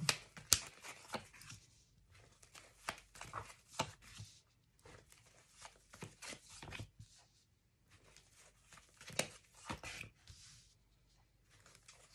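Tarot cards drawn and handled close by: soft papery flicks, slides and taps come in irregular clusters, with no voice heard.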